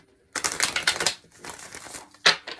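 A deck of oracle cards is shuffled up close in a few quick papery riffling bursts, crisp and fairly loud, with short pauses between them.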